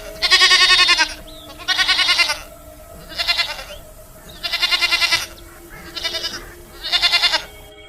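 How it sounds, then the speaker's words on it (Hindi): A herd of goats bleats in six loud, wavering calls separated by short pauses, close and clear, while being taken out to graze. "सोना चुड़ैल के पास बहुत सारी बकरियां थीं।"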